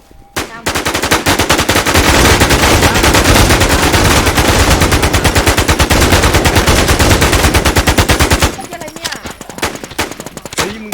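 Sustained rapid automatic gunfire from a video game rattles loudly for about eight seconds, a dense machine-gun burst that cuts off abruptly, followed by quieter scattered game sounds.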